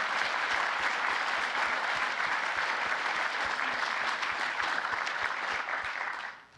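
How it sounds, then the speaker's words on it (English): Steady, dense applause from an audience at a talk on a French teenager in the Resistance, continuing evenly for about six seconds before tapering off at the end. "Round of applause, please."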